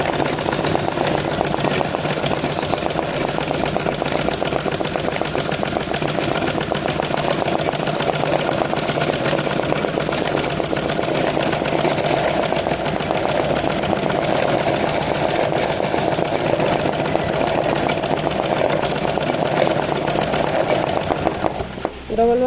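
A sewing machine stitches continuously in a steady, fast, even rhythm while running a stitch around an embroidered flower on cloth, then stops just before the end.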